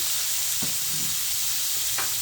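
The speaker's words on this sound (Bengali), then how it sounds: "এবার একটু কিছুক্ষণ ধরে ফ্রাই হবে।" Beetroot vegetable chop mixture with turmeric frying in a pan, a steady close sizzle with a couple of soft stirring scrapes, no talking.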